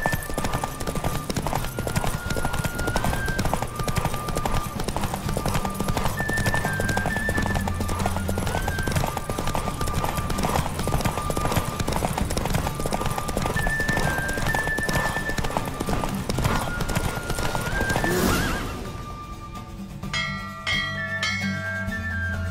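A horse galloping in the video game The Witcher 3, with steady rapid hoofbeats throughout, repeated neighing and a bell ringing in the background, all loud and close before the hoofbeats drop away near the end.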